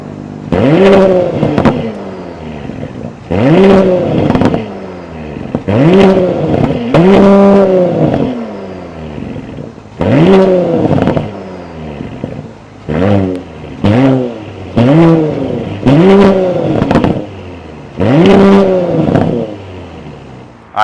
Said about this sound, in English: that was the sound of the 3-liter twin-turbo V6 hybrid sold by